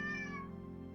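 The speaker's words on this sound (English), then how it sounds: "what sounds like the meowing of a small cat" A small black cat meows in one clear, drawn-out call that fades near the end, close and alone with no talk.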